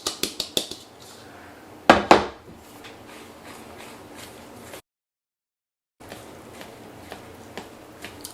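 A spoon scrapes and clinks against a bowl while zucchini cake batter with its dry ingredients is mixed by hand: a quick run of sharp knocks, then a louder pair of clanks, then softer scraping strokes with a brief silent gap.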